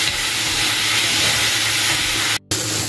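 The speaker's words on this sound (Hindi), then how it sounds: "अब इसे भी हम थोड़ा सा भून लेंगे अच्छे से" Chopped vegetables for a mix veg curry sautéing in a pan, giving a steady, close, broadband hissing sizzle that runs almost without a break, cut by one brief dropout near the end.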